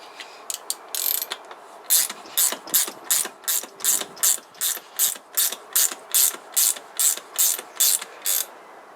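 A ratchet works a nut on the rear shock of a Kawasaki GPZ500S motorcycle, giving about sixteen evenly spaced bursts of close, crisp clicking in a steady back-and-forth rhythm.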